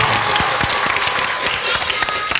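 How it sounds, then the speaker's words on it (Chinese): Studio audience on a quiz game show claps after a contestant scores, a dense steady round of applause with individual claps standing out, fairly close and loud. "破蛋啦，掌声鼓励"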